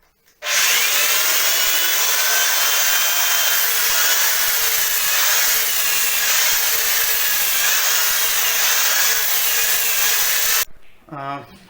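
A drill fitted to work like an angle grinder sanding a swollen wooden door, a continuous high-pitched whine and abrasive rub held steadily for about ten seconds before stopping.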